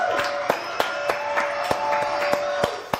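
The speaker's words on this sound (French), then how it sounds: "je vous demande d'applaudir pour son seul en scène" Scattered applause from a studio audience greets a guest arriving for her one-woman show, a thin patter of claps punctuated by several sharper, louder claps at irregular intervals.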